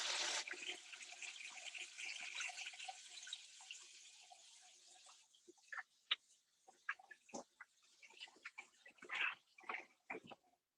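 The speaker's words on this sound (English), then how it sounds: "Wash my hands real quick." A tap runs in a steady hiss for several seconds while hands are washed, then the flow stops and scattered light knocks and splashes from the sink follow.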